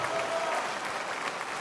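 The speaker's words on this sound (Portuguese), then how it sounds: "Vai aplaudindo e vai glorificando." A church congregation claps together in steady, dense applause that fills the whole stretch without pause.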